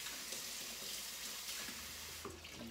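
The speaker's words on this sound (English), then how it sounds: "So I'm going to rinse this glove off, though." Water from a kitchen tap runs steadily as a glove is rinsed beneath it, a soft continuous splashing hiss close by, with a small clunk near the end.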